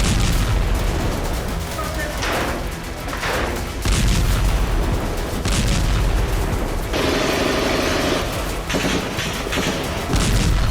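Explosions and bursts of gunfire from IDF air strikes on Gaza-area towns, booming repeatedly with rough noisy bursts, sitting under a narrator's voice throughout.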